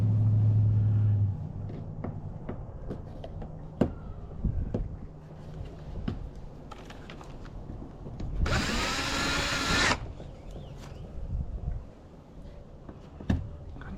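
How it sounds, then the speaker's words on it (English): A power drill bores into a kayak for an anchor trolley mount, a loud whining burst lasting about a second and a half amid handling clatter, knocks and low background rumble. "Take your drill and just drill into it."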